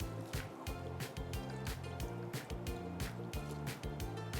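Soaked rice goes into a pot of boiling water for Schezwan veg fried rice, with rhythmic bubbling, splashing and clinking up close and continuous throughout.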